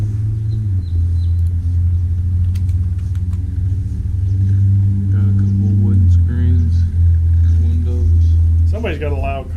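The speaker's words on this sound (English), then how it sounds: "loud car." A car rolls past close by with a deep, loud engine rumble that swells and holds before fading, while someone talks over it near the end.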